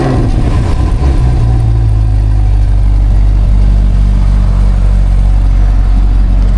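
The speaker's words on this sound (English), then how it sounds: "I can't make a Corvette video without doing startups" A Chevrolet Corvette C8 engine, already warm, starts up and settles into a loud, steady, deep rumble close by, with faint mechanical clatter and no voices.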